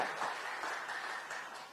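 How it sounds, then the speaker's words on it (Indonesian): A church congregation applauds during a Christmas service, a faint, distant wash of steady clapping that tapers off slightly. "Yang percaya berikan tepuk tangan sekali lagi bagi Tuhan kita."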